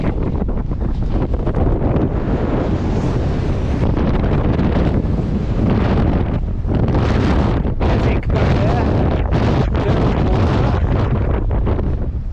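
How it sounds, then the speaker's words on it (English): Strong wind buffeting the microphone on a Lake District fell near Skiddaw, a loud continuous roar with gusty surges throughout, a voice briefly heard beneath it. "Very windy."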